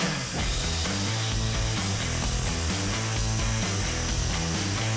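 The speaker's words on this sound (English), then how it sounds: "When it engages, it's gonna weld right down the seam." Robotic hot-air welder running steadily along a TPO roofing seam, a continuous loud blowing hiss with a layered mechanical drone throughout, no talking.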